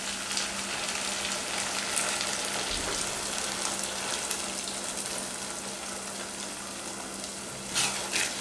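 White sauce pasta sizzles and fries steadily in a pan, a loud continuous crackle with occasional scraping stir sounds, close and without talk.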